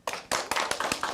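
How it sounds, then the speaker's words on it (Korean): Audience clapping as two Seoul mayoral candidates are welcomed at a Democratic Party public interview event, with sharp, close hand claps in an uneven rhythm and no talk over them. "큰 박수로 환영해 주시기 바랍니다."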